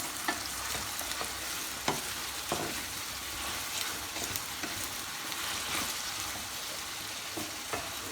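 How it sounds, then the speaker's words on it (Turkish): Onions frying in a pan while cherry leaf meatballs cook nearby, giving a steady close sizzle with scattered crackles and a few faint stirring clinks throughout, no voices. "Bu arada soğanımız kavruluyor."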